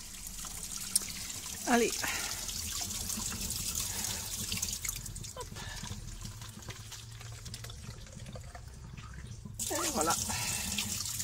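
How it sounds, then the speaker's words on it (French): Spring water runs from a public drinking fountain in Merano into a small bottle, a steady trickle and splash heard close by, with a person speaking briefly over it. "Et comme j'ai soif, je vais remplir ma petite bouteille."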